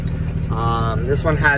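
A 2018 Thomas Transit-Liner C2 school bus engine holds a steady high idle, its low throbbing hum running continuously beneath a man's nearby speech.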